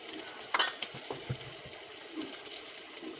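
Turmeric, asafoetida, red chilli powder and salt sizzle faintly in hot oil for a potato curry, with a brief sharp crackle early on, then soft, quiet frying and occasional stirring clinks.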